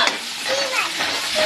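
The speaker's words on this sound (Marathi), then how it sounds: "आपण आता व्यवस्थित भाजून घेणार आहे." Ground masala paste roasts in hot oil with a dense, loud sizzle, stirred briskly for a brief moment with no talking.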